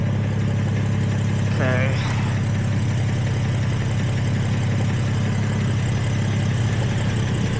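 BMW M3 exhaust idling with a resonator fitted, a steady low rumbling drone close by, with a person briefly speaking over it.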